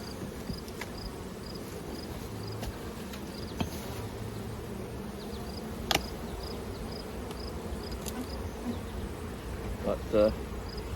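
Honey bees buzz around hives in a bee yard. The hum is soft and continuous, and individual bees pass close by now and then.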